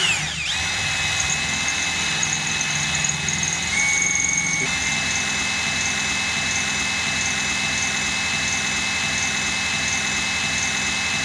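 A steady, loud high-pitched mechanical whine runs continuously, with a brief shift in pitch early on, like a power drill spinning.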